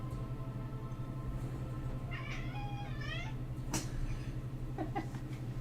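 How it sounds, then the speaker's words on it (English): A pet cat gives a few squeaky, wavering meows in the middle of a quiet indoor room, faint over a constant low electrical hum. "You just know that they like your squeaky little meow, don't you?"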